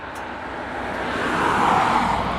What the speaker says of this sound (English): there will be some background noise because of the passing cars